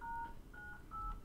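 Telephone dialing tones from the video game Dr. Langeskov sound as a rapid sequence of about three short, faint electronic beeps over a low background hum.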